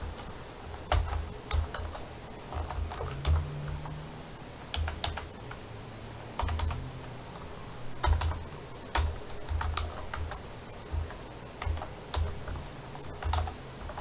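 Numbers are typed on a computer keyboard for a spreadsheet, with the enter key pressed between entries: short bursts of crisp, close keystrokes separated by brief pauses, with no one speaking.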